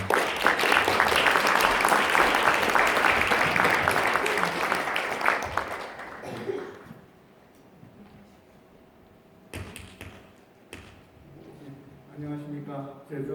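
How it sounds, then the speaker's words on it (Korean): A ceremony audience at a child welfare association's 70th anniversary event gives a loud burst of welcoming applause lasting about six seconds, then it fades into a quieter room with brief talk. "회장님 나오실 때 큰 박수로 환영해 주시면 감사하겠습니다."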